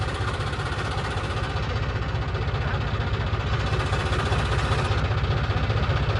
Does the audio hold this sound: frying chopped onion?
no